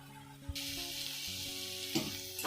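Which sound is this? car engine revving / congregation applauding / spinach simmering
spinach simmering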